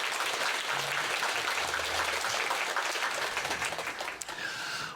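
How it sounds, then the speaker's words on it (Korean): A church congregation applauds in a sustained, even wash of clapping for about five seconds, filling the hall, with a faint tone lingering near the end. "하나님께 크게 영광과 감사의 박수 올려드립니다"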